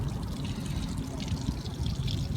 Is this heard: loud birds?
no